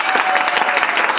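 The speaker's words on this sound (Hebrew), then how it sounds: "שוב מחיאות כפיים." A short burst of hand clapping from an audience at a gathering in the Kinor David hotel in Tbilisi, Georgia: dense, close applause with no one speaking.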